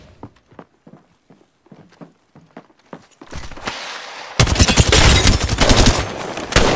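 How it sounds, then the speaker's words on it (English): Gunfire in a video game: a run of sharp, evenly spaced single shots that builds into dense, loud rapid automatic fire and a chaotic barrage of overlapping bursts. "Getting shot at!"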